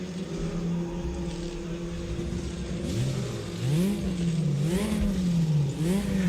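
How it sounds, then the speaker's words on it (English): A turbocharged Porsche in RaceRoom Racing Experience settles into a steady idle, then revs repeatedly, the engine pitch rising and falling in a few close, loud blips. "So of course this hasn't got the kind of traditional Porsche flat 6 engine, so it's going to sound a little bit different"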